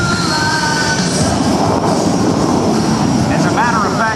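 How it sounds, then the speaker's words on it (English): F/A-18F Super Hornet jet at a Blue Angels homecoming airshow, its loud continuous engine roar filling the air while an announcer talks over the sound. "I'm just told by Lieutenant James Dimond, at their current flight weight today, it actually has a greater than 1-to-1 thrust-to-weight ratio."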